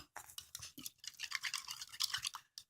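Homemade water slime being stirred: quiet, close, wet squishing and scraping strokes in rapid irregular bursts, with short pauses.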